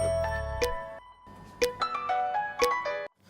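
A phone rings with a bright electronic melody of chiming tones, repeating in short phrases with gaps, fairly loud and close, with no voices over it.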